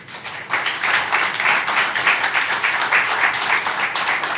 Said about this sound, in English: So with a huge applaud,